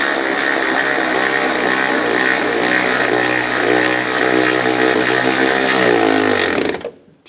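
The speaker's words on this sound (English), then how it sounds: "Tighten the bolts down." A power tool drives the fan shroud bolts on a 1999-2006 Chevrolet Silverado 1500, a loud continuous whine held for several seconds before it winds down and stops.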